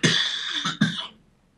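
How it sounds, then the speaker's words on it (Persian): A single person coughs up close, two or three quick harsh bursts in a row that fade into silence, with no talk. "سرفه؟"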